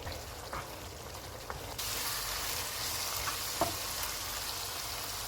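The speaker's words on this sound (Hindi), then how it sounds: "चूल्हे को मीडियम टू हाई कर देते हैं और इसको ऑयल अलग होने तक भूनेंगे" Keema (minced meat) sizzles and fries in a pan over medium-high heat, a steady crackling hiss that grows louder partway through, with a few faint scrapes and knocks of stirring.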